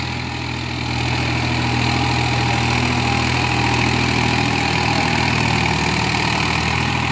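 A Swaraj 4x4 tractor engine rumbles steadily at idle, a continuous low mechanical drone close by with no voices.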